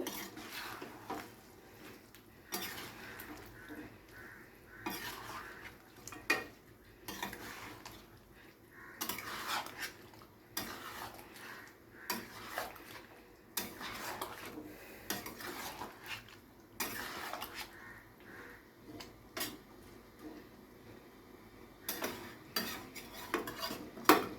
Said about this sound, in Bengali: তো জল দিয়ে খুব ভালো করে নাড়াচাড়া করে এবারে ঢাকনা চাপা দিয়ে রান্নাটা করে নেব